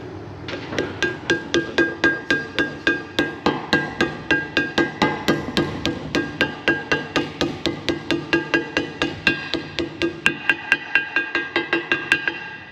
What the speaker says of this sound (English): We was pulling that in with the slide hammer